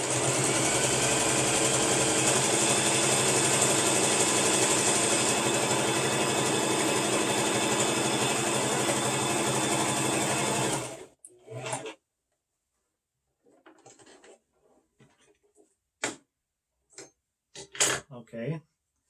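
A sewing machine hems a face mask, its loud, steady, rapid mechanical whir running continuously for about eleven seconds before stopping abruptly, followed by faint scattered clicks and handling noises.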